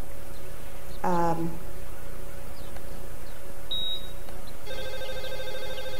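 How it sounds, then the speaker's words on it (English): A telephone rings once in a short electronic burst, loud and close, followed by a quieter steady tonal beeping, with no talking. "Phone rings, and Dr. Smith picks it up."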